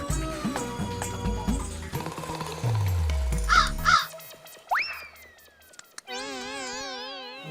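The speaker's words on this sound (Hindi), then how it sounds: "बेशरम कौवे" A crow caws loudly and nearby in a few harsh calls within a comedic street scene, mixed with cartoonish sound effects and a boing-like tone, with no talking.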